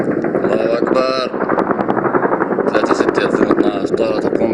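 A military aircraft circles overhead during a bombing of a residential area in Aleppo, a loud, continuous rotor-like drone with voices shouting over it throughout.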